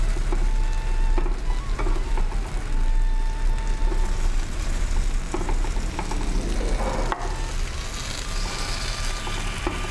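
Food frying in oil for a Mahalaya Amavasai fasting meal is turned bit by bit, giving a steady close sizzle with occasional scraping and clinks over ten seconds, no talk.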